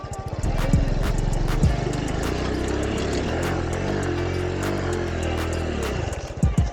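A Honda Super Cub postie bike engine pulls in first gear out in the Australian bush, a steady buzzing drone that holds for several seconds before a brief change in pitch and a sputter near the end.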